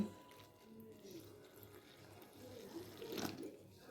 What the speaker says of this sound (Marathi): आता मी याच्यामध्ये आधी एक ग्लास पाणी ओतते